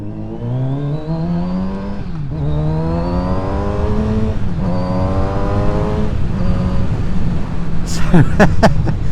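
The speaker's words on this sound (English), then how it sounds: "this exhaust is now pretty flipping loud" A Kawasaki Z900RS motorcycle exhaust revs up through several rising gear pulls, loud and close, ending with sharp crackles and pops.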